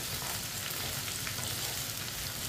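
Okra frying in a pan gives off a steady, dense sizzle while a spoon stirs it, heard close and alone without talk.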